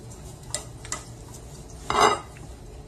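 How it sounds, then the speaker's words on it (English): A knife cuts into a sourdough-topped roast beef with a few light scrapes and taps, then one louder crunchy slice through the crust near the end, close and without talk. "let's go ahead and just slice this open here. Cut off a piece and just see."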